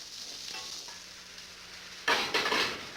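Peeled apple chunks for stuffing sizzle and fry steadily in a hot pan, with a louder burst of frying and stirring near the end. No one speaks.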